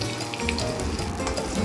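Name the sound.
bitter gourd pieces frying in oil, stirred with a ladle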